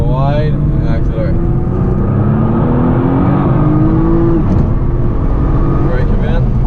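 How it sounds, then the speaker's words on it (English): A Nissan GT-R accelerates hard on a race circuit, its engine note climbing loud and close with a steady rising drone from the cabin, while a voice talks over it. "Go wide and accelerate."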